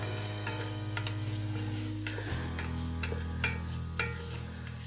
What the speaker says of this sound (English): Now I'm gonna toss this, make sure the onion gets really coated in that bacon fat.